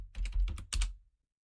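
Quick bursts of typing on a computer keyboard: a few crisp keystrokes in two short clusters, close and clear, then silence.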